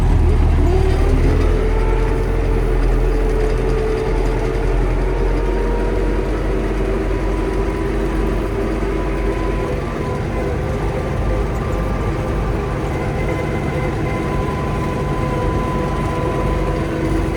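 An MTZ-892 tractor with a Spray-Force sprayer runs on autopilot while applying Roundup to soybeans, a loud, close, continuous engine drone with a steady mechanical hum throughout.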